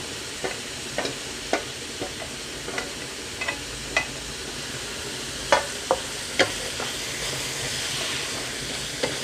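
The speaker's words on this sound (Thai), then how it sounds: "ผัดลงไปผัดค่ะ ผัดลงไปค่ะ" Minced pork with broccoli and carrot is stir-fried in a pan under a steady, hissing sizzle, punctuated by scattered sharp clicks and scrapes of the spatula against the pan.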